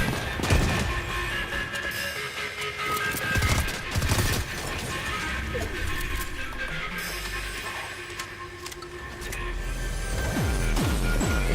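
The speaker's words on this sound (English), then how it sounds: "Shotgun pretty good." Shotgun blasts in a video game boom out as a few loud, separate shots early on, set against a busy, noisy game soundscape that continues steadily afterward.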